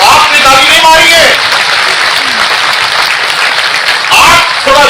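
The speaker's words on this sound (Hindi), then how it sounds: "जोर से मारिए ताली, हाथ ऊपर करके ताली मारिए।" A large audience applauds together at an award ceremony for women and Anganwadi workers in Uttarakhand, a dense, loud wash of clapping with a voice speaking over it at the start and end.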